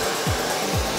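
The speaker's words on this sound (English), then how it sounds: "Then you're gonna turn your blow dryer to cold air" A hair dryer on the cold setting blows with a steady, loud whoosh of air, close up, with two short low thumps partway through.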